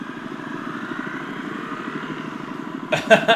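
A dirt bike engine drones steadily on an off-road trail, a low pulsing motor note running throughout, with a louder burst of rougher noise in the final half second.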